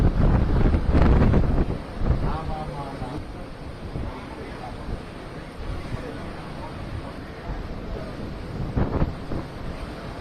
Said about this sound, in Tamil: புயலின் தாக்கத்தால் கடல் கொந்தளிப்பாக காணப்பட்ட நிலையில் அது கரையை கடந்தபோது கடல் அலைகள் 15 அடி